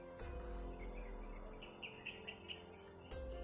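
A bird calls in the outdoors with a few short, faint chirps repeating over a low steady background hum, no voices present.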